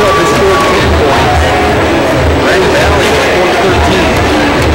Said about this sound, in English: it's a really good crowd here at Roosevelt tonight